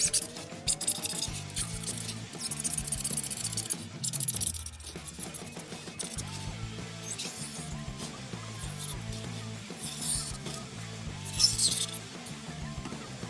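A sharp blade cuts a snug hole in a block of foam, making soft rasping, scraping strokes with small clinks over background music.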